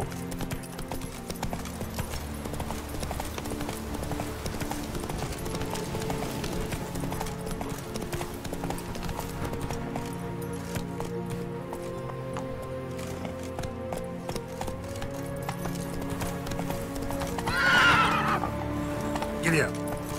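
A horse gallops with steady hoofbeats, snorts and whinnies in The Witcher 3 video game, continuous and fairly loud under talk and game music.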